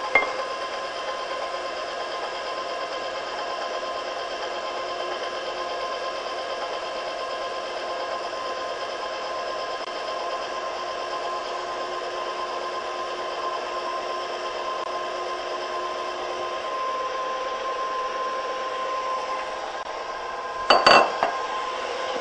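An electric stand mixer running on low speed through chocolate cupcake batter gives a steady, even mechanical hum, continuous and unbroken, with a brief clatter near the end.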